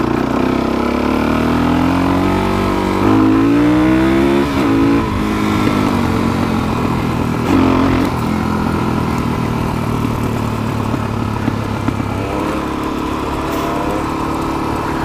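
Suzuki DRZ400SM dual-sport motorcycle with a sticking throttle, its engine idling high and loud close by, with rising and falling revs throughout.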